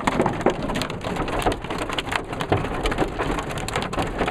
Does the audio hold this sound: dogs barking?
no